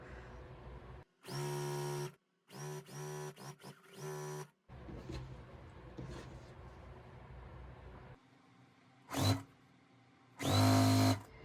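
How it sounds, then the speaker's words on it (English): A sewing machine runs in several loud bursts while strips of a scrap quilt block are chain pieced. Some bursts are steady and some are broken into short stutters, with quiet handling noises and gaps between them and no talking. "So I'm going to go ahead and get this sewn up. I've started chain piecing."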